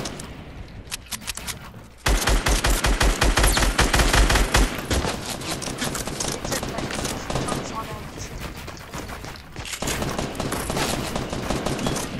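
Gunfire in the Fortnite video game, dense rapid automatic shots and overlapping blasts running almost without a break, loud and close, with a player's voice talking over the fighting.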